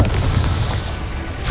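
Blasting spells Bombarda and Confringo in Hogwarts Legacy, a heavy booming explosion with low rumble that fades over a second and a half.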